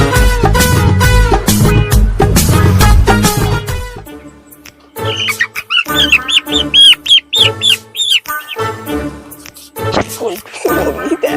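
A chicken clucks and squawks in a run of short, loud, irregular calls after a burst of loud music, with the bird close and prominent.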